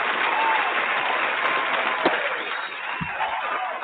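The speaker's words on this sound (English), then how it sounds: "Let me first give you a round of applause for coming on the show." A studio audience gives a round of applause for a guest on a morning talk show, a steady wash of clapping that holds at an even level throughout with a brief thump partway through.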